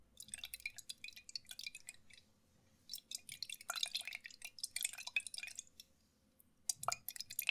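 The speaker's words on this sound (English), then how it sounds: "There's going to be lots of liquid sounds in this video." Fireball whiskey trickles and drips into a glass in quiet, close-up bursts with soft splashes and pauses, and no voice is heard.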